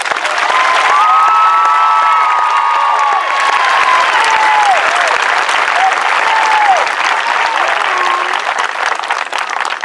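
A large audience at a high school graduation claps steadily and loudly throughout, a dense wash of applause with a few scattered whistles and cheers rising above it.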